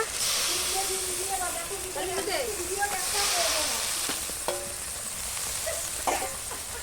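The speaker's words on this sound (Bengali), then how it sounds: "তো ভালো করে চলো মশলাটা একটু কষিয়ে নিই" Spices sizzle and hiss in a pan over a wood-fired clay stove while a spoon scrapes and stirs now and then, a steady frying hiss with clinks and scrapes close by.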